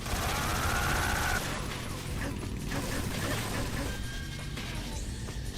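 Gunfire in the video game Metal Gear Solid 3: Snake Eater, a dense mechanical rattle of rapid shots that runs loud at first and then settles into a steadier clatter of game noise, with no speech.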